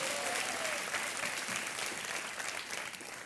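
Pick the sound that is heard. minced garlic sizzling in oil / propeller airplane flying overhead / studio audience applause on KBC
studio audience applause on KBC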